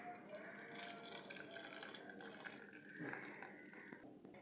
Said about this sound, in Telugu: సో మనమైతే ఇప్పుడు దీన్ని వడపోసుకోవాలి.